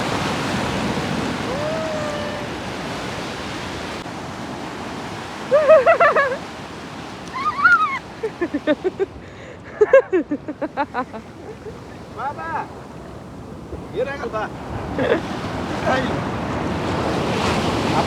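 Ocean waves wash onto the beach at Gokarna in a continuous roar with wind buffeting the microphone. Several people talk over the surf in short bursts.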